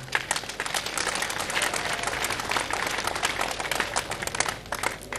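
Sustained applause from a crowd of mourners at a Catholic funeral service for Kyungu, steady dense clapping throughout with no speech over it.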